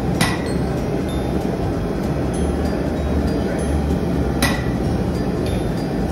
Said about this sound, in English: you choose the shape you want and then you do hammer into it